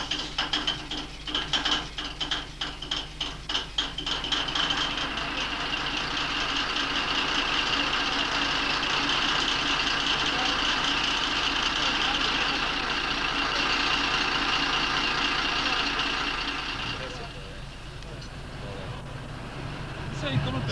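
A vehicle engine idling and revving after a short burst of throttle, loud and steady for most of the stretch with clattering mechanical noise early on, easing off near the end.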